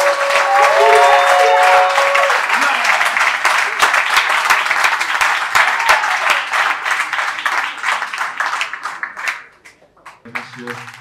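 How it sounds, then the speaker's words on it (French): An audience at a short film festival in Pointe-Noire bursts into loud, close applause with some cheering, which thins and fades out over about ten seconds as a voice begins speaking. "Est-ce qu'on peut encore applaudir pour ces personnes ?"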